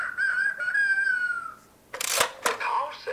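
A rooster crows nearby with a long, drawn-out harmonic call. A short pause follows, then a few sharp noisy bursts.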